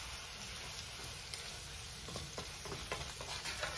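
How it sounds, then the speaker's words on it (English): Shrimp Alfredo with red and green pepper being stirred in a pan, a steady soft sizzle with scraping spoon strokes growing more frequent toward the end, close by with no talking. "Now I mix it up a little bit,"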